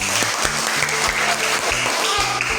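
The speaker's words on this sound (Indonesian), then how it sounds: "Tepuk tangan dulu." A class claps together in dense, steady applause, with voices faintly audible beneath the clapping.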